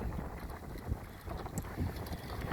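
Strong, steady wind roars across the microphone aboard a small, 34-year-old Sunfish sailboat on wavy water, a continuous rushing blast with low gusty rumble and no voices.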